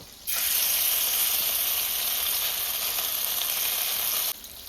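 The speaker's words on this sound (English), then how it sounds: "this is the garlic and the ginger and the pimento seed that I crushed when I was seasoning the pork. So I'm gonna add that to the oil." Garlic, ginger and crushed pimento seed hit hot oil for jerk pork chops, giving a loud, steady sizzle that bursts in abruptly, holds evenly for about four seconds, then cuts off.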